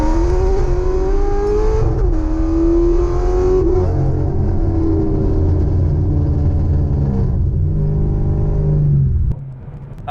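A straight-piped, cammed 500 whp C6 Corvette accelerates hard in second gear, its loud, deep exhaust rumble climbing steadily in pitch before the throttle lifts near the end.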